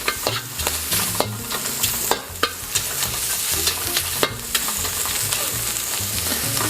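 Prawns and pork sizzle in a hot pan for Singapore noodles, with continuous frying and repeated scraping, clattering stirs at an irregular rhythm, close and fairly loud.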